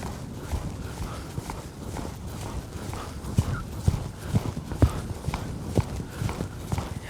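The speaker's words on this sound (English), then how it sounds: "Keep her loping." A loping horse's hoofbeats thud in a steady, rolling three-beat rhythm on soft ground, moderately close and fairly quiet against a light background wash.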